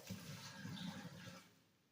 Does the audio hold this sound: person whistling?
no